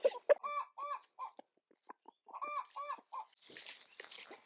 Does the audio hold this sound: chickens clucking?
yes